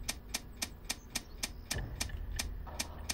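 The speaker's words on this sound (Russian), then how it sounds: "Сейчас будет щелчок, отлично." A safe's dial in the Thief Simulator game gives a steady series of about a dozen light mechanical ticks, evenly spaced and quiet, over a low background hum.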